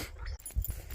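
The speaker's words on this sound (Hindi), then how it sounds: "कुत्ते हो जाते हैं ना, उनके चक्कर से कुछ हो नहीं पाता काम धाम" A dog whimpers softly outdoors near bushes, brief low whines and breathy sounds over a short stretch.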